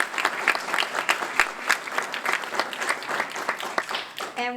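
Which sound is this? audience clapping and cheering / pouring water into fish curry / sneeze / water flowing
audience clapping and cheering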